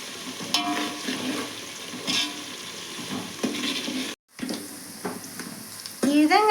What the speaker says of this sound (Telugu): ఇప్పుడైతే బాగా ఉల్లిగడ్డ ముక్కలు బాగా అయితే ఫ్రై అయినాయి